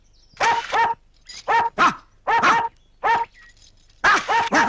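A dog in a comedy film scene barks repeatedly and loudly up close, in short clusters of two or three barks with brief gaps between them and no talking.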